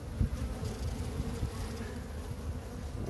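Honeybees buzzing at an opened hive during a frame inspection: a dense, steady swarm drone fills the whole stretch, close and continuous, with a few soft knocks and no talking.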